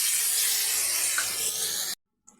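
Ground spices frying in a pan, including dried red chilli powder, garam masala powder and a paste of coriander, ginger and cinnamon, giving a loud, bright, steady sizzle that cuts off abruptly near the end.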